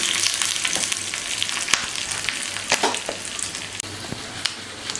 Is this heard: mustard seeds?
yes